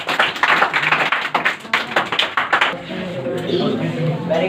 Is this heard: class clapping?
yes